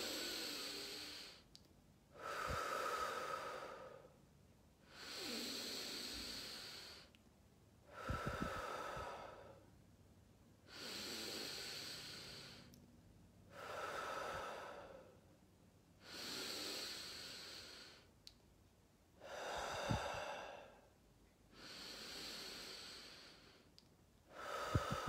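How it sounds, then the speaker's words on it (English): Slow, deep breathing in and out during a guided calming exercise, several long inhales and exhales in a steady rhythm, close and fairly quiet with no talking. "5 deep breaths in and out"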